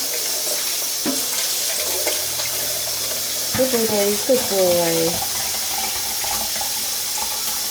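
Warm water running from a tap during a dog flea bath, a steady broad hiss throughout while someone speaks briefly over it.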